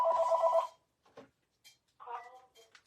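A phone gives one short electronic ring for an incoming call, followed by brief soft speech-like sounds.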